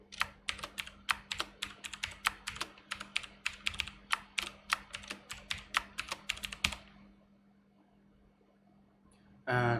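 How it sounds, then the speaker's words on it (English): A computer keyboard clatters as a password is typed on a retro Pentium 4 machine during a Linux install, a steady run of close, crisp keystrokes for several seconds, then quiet, and finally a short burst of noise at the end. "if anyone can recognize the password with just the keystrokes"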